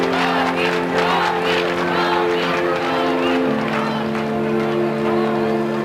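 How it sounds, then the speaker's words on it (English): Large crowds cheer for Mikhail Gorbachev, a dense roar of voices and whoops under a steady droning tone, while a narrator talks over the noise. "Crowds cheer his name as the world becomes infused with Gorby mania."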